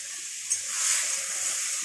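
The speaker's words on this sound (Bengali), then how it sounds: "এটা ভালো করে নেড়ে নিই।" Boiled peas for ghugni are stirred in a hot pan, giving a steady close sizzling hiss with one soft knock early on.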